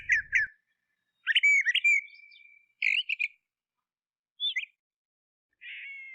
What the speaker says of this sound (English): I wish I could hear the sweet sound of the birds singing.